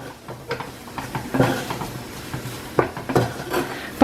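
Choux dough stirred hard in a saucepan, giving irregular scraping and knocking of the utensil against the pan, close and moderately loud.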